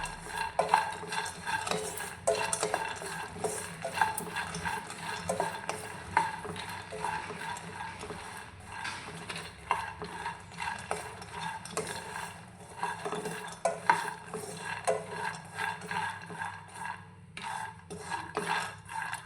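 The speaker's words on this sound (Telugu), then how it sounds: "ఆయిల్ అయితే వేయలేదండి ఇది మామూలుగా డ్రై ఫ్రై అయితే చేస్తున్నాను" Peanuts dry roasted in a pan with no oil while being stirred over a medium flame, giving a steady rattling, scraping stir that continues throughout at close range with no voices.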